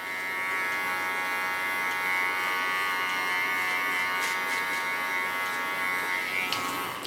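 A small electric hair clipper buzzes steadily close up while tidying a fresh haircut, a continuous tonal whine with slight shifts in pitch as it moves over the hair, no talking.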